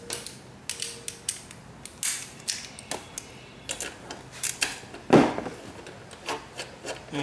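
A 5/16 socket ratchet loosening valve cover bolts on a GY6 scooter engine, a series of close, sharp clicking and creaking ratchet strokes in an uneven rhythm, with no talking.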